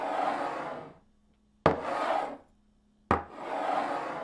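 A cup sliding across a kitchen surface, sampled and looped: three rough scraping slides, each opening with a sharp attack and then fading, separated by brief near-silent gaps.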